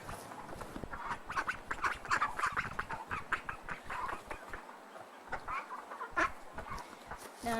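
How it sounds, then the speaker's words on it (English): A smaller, young female duck calls in a run of honking, quacking bursts, close and fairly loud, with other poultry-like calls mixed in and no talking. "Now this is my third healthiest duck."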